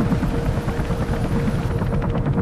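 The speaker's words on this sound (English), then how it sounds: "Helicopter." A helicopter in the video game Mirror's Edge thrums loudly and steadily nearby, its rotor pulsing throughout with no talk over it.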